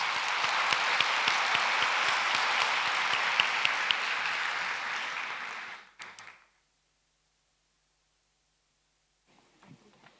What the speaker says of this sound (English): please give an applause to our presenters